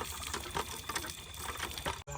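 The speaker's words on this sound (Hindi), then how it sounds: "बोतल को ज़रा साफ़ कर लेते हैं और इसमें पानी भर के ले जाते हैं।" Water gushes steadily into a bottle, a continuous close pouring rush at moderate volume that cuts off abruptly at the end.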